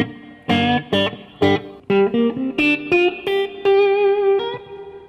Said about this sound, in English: I always, in the studio, I always love plate reverb on guitar